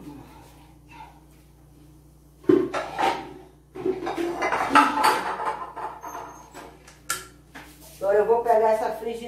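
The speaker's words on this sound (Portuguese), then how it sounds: "Agora eu vou pegar essa frigideira." Metal frying pan picked up and handled on a kitchen stove while coconut oil is being extracted, giving clattering knocks and scrapes in several short bursts, with a sharp clank partway through, close and moderately loud.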